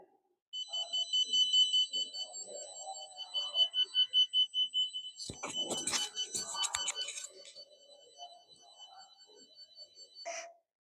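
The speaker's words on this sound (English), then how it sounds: "Whenever the PIR sensor detects any movement, the Arduino trigger the buzzer and LED." Buzzer on an Arduino Uno burglar alarm with a PIR sensor and LED on a breadboard sounds in high-pitched electronic tones that start, stop and restart, mixed with indistinct handling and voice-like sounds, moderately quiet.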